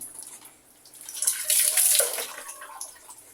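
Water runs from a tap during a pet's bath, a soft gurgling stream that swells to a louder splashing rush in the middle and then eases off, heard close with no talking.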